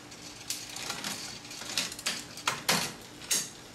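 Gear shifting on a Polygon Cascade 4 mountain bike: a run of sharp, close metallic clicks and ticks from the drivetrain, irregularly spaced and growing more frequent toward the end, with no talk.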